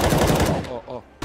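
Desert Eagle pistol fire in CS:GO: loud, close gunshots in quick succession, ending in a sharp final crack.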